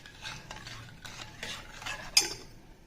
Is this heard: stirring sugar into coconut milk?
yes